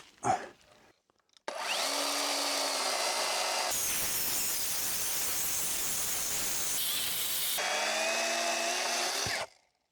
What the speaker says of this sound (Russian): Тут от него всего лишь один рез нужно сделать.